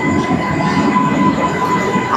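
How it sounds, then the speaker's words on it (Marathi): A Mumbai local train bound for Andheri rushes past close by, a loud, steady rumble of wagons with a faint metallic wheel whine and no talking. "ही अंधेरी ट्रेन गेली"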